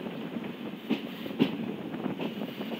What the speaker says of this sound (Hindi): ट्रेन यहाँ पर रुकेगी